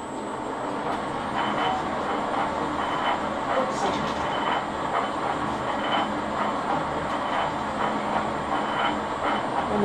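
An Alba 1A shaper runs a roughing cut on a wooden workpiece, its motor producing a steady, moderately loud mechanical whir with repeating rhythmic strokes and a faint high whine, with no voices over it.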